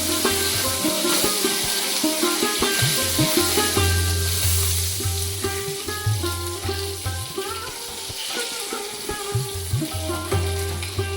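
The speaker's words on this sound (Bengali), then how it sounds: "দেখুন মাছগুলো সব ভাজা হয়ে গেছে।" Pomfret fish fry in oil with a continuous crackling sizzle, joined by intermittent clinks and clatter of utensils close by.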